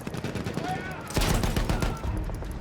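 Gunfire in the video game Battlefield 1, a burst of rapid overlapping shots in a noisy battle mix with a louder cluster of blasts midway.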